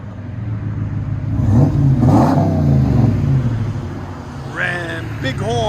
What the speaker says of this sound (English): It actually sounds like a truck now.